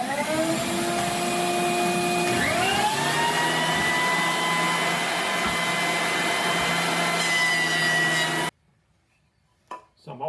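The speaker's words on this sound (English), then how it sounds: "we'll run them through the planer to get them down to 1/2 inch" Benchtop planer taking about a quarter inch off wood boards, a loud continuous roaring whine with shifting pitch that cuts off abruptly, followed by near silence and a few faint knocks.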